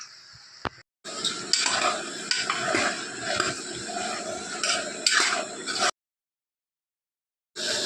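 Tomato and brinjal sautéing with salt in a pan for a kadayal, a steady broadband sizzle with clinks of a utensil against the pan, broken by brief silences.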